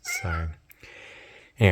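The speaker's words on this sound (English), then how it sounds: "excuse the cat in the background" A house cat meows in the background, two clear harmonic meows at the start and end with a person speaking briefly in between, close and moderately loud.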